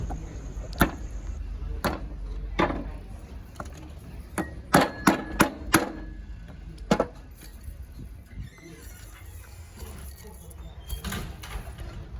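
Metal clinks and sharp taps ring out at irregular intervals as a new bearing and pulley are fitted onto a car A/C compressor, with a tight cluster of knocks midway and quieter handling sounds between, close and fairly clear.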